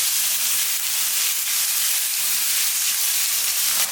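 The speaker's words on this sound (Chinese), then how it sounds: "将锅烧热，不用放油，把五花肉给它煸香，煸炒出多余的牛油" Pork belly stir-frying in a dry, oil-free hot wok gives off a steady, loud sizzle and hiss that holds without a break, with no voices.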